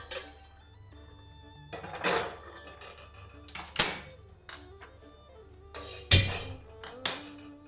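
A cooking pot is set on the stove to heat for a Konkani-style crab curry, giving scattered metallic clanks and knocks of cookware, several sharp close hits spaced irregularly with quiet gaps between.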